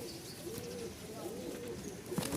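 Tumbler pigeons coo softly in a loft, with repeated low throaty calls running steadily through the moment amid faint background noise.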